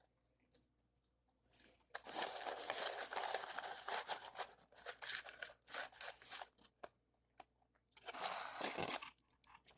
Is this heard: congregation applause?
no